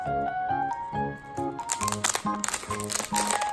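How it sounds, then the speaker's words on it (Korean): Plastic wrap crinkles and crackles as it is peeled off a Monami 153 gold ballpoint pen, short irregular rustling bursts arriving in the second half over steady background music. "비닐을 벗겨내니까"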